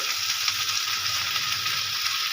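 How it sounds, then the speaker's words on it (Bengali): Mixed vegetables sautéing in a pan for an ilish fish-head and pui shak chorchori, a steady, fairly loud broadband sizzle that runs unbroken throughout with no voices. "বটবটিটা দিয়ে আমি দু মিনিট ভালো করে সবজিটা কষিয়ে নেব"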